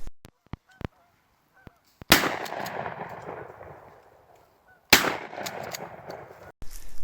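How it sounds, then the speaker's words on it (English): Gunshots from people shooting down the road in open public hunting land, a few sharp distant cracks early followed by two loud booming reports that echo and decay over several seconds, with faint goose honks in between. "guys shooting some guns down there too."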